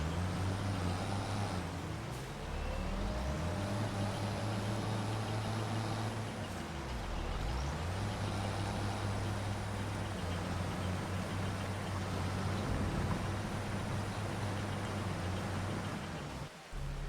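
Engine and vehicle traffic in the Farming Simulator 25 video game, a steady heavy drone with shifting engine tones and a hissing brake-like release near the end, continuous and fairly loud with no talk.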